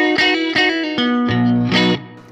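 Guitar notes through a Fender Mustang Micro headphone amp with its hall reverb maxed out: five struck notes and chords, each blooming into a long washy tail, the last ringing out and decaying alone.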